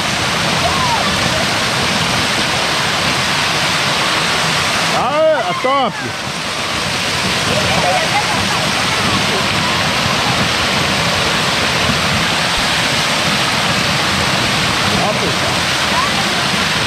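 A waterfall in Nova Floresta, Roraima, Brazil, roars continuously with loud, close rushing water, and a voice briefly calls out over it.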